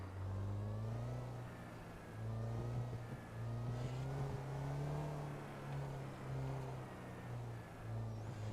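A car in a GTA roleplay game accelerating hard, its engine revving up in repeated rising pulls with brief dips between them, steady and prominent with no talk.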